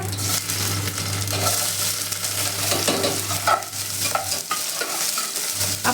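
Chopped onion, ginger and cumin seeds frying in hot oil while being stirred, a steady close sizzle with scraping and stirring sounds throughout, no talk.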